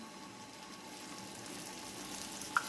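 Lachha paratha frying in ghee and butter on a hot tawa, giving a steady close sizzle with a faint crackle near the end.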